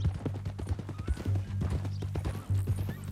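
Horse hooves clip-clop in a steady rhythm on a trail in Red Dead Redemption 2, close and fairly loud, with a brief whinny-like sound among the footfalls.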